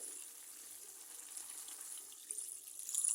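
Water pours into a pan of hilsa fish curry with taro roots, a soft, steady, faint rushing that swells slightly toward the end, with no talk.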